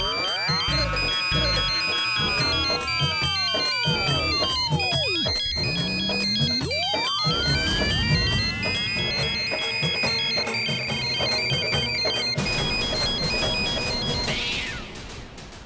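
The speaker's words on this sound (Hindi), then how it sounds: "बज गई इस फोन की घंटी" Mobile phone ringtone playing loudly and continuously, a melodic electronic tune with sweeping tones that cuts off at the end.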